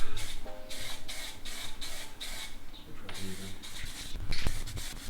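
Tint being sprayed onto Golf Mk3 rear light lenses, a second coat: a run of short, even hissing aerosol bursts close by, separated by brief pauses and steady in level.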